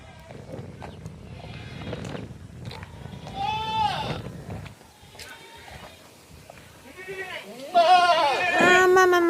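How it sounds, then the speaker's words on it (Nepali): Large billy goats at a goat farm let out wavering bleats, a few spaced calls then a louder burst near the end, with people talking and shuffling nearby. "बोका त हेर्नुहोस् साथीहरू यति ठुल्ठुलो पो त छ"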